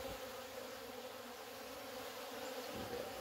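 Apis honey bees swarm over cattle feed, giving a steady, dense buzzing hum that holds at an even level throughout with no voices.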